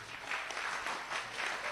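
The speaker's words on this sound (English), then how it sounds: "Delta team leaders, may you stand up. Wow, big round of applause." A crowd at a school speech and debate program applauds the Delta team leaders, with steady, dense clapping that pulses slightly throughout the brief moment.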